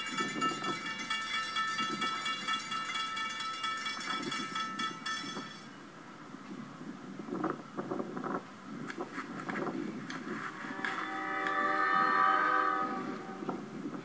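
Railroad crossing bells clang in a steady, rapid ring at a level crossing while a train rumbles past, the bells fading partway through as a horn-like tone swells near the end.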